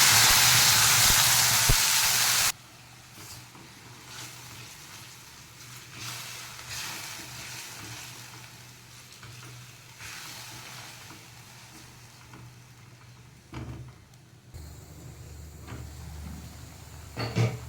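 Ground spice paste hits hot oil, spiced with cloves, star anise, cinnamon and bay leaf, in a loud hissing burst that settles into a steady, quieter sizzle with occasional stirring scrapes.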